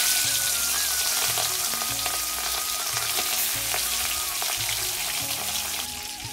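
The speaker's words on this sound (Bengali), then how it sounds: "প্রথমে আমি কড়াইতে তেল দিয়ে মাছটা ভেজে নিচ্ছি।" Hilsa fish frying in oil in a wok, producing a loud, steady crackling sizzle close up with bursts of popping and no voices.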